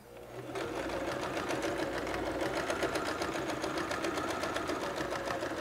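A sewing machine with a threading error runs continuously and close up after a brief start, its rapid mechanical stitching carrying an odd, uneven knocking rattle.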